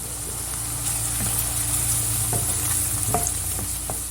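Shredded cabbage with chili flakes and red pepper powder sizzles in a hot pan while a utensil stirs it, making a steady fry hiss broken by a few scraping knocks.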